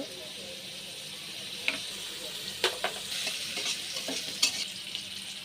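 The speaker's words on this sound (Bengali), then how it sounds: "কড়াইয়ে পরিমাণ মতো তেল, পেঁয়াজ কুচি এবং মরিচ ফালি করে দিয়ে পেঁয়াজটাকে একটু নরম হয়ে আসা পর্যন্ত একটু রান্না করে ভেজে নেব" Sliced onion and chili frying in oil in a wok-style pan for a beef curry, giving a steady soft sizzle with a few light stirring clatters and scrapes, no talking.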